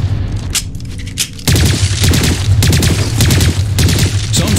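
Gunfire in the shooter Lost Planet 3, a few scattered shots at first, then a loud, sustained fusillade of rapid shots and booms that runs without a break.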